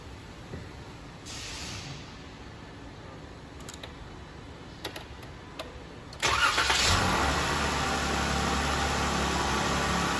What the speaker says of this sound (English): now I have the vehicle running